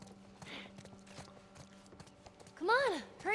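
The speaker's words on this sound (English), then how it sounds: "I hear like footsteps or something." Giraffes in the video game The Last of Us Part I walk with soft, steady hoof clops under a low hum, and a rising cry swells near the end.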